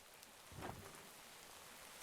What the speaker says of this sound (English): It basically makes it feel like it's raining on this little plot of land right here.